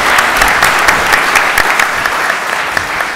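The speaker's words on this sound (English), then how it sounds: "maybe a warm round of applause for Aminata" Warm round of applause from an evening audience at the Rode Hoed, dense steady clapping throughout with no voices standing out.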